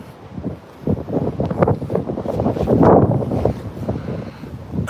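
Strong, gusty headwind on an open disc golf course buffets the microphone in loud, uneven surges that build to a heavy blast midway before easing slightly, with no talk.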